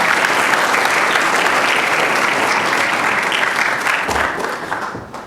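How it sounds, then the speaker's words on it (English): An audience at a film industry summit in Connecticut breaks into a loud, sustained round of applause, dense clapping that fades out toward the end. "So give yourself a round of applause."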